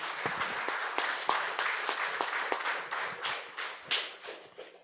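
A church congregation applauds, many hands clapping in a dense, continuous patter with some sharper individual claps, steady and moderately loud, fading slightly toward the end.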